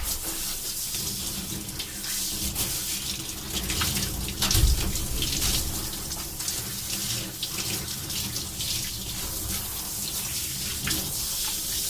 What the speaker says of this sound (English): She was pretty dirty, so I'm just going to rinse real quick.